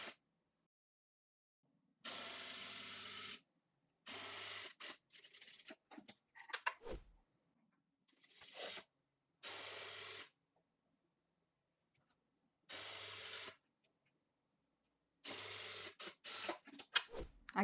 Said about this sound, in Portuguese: a gente vai agora costurar as duas laterais para já fazer os processos de uma vez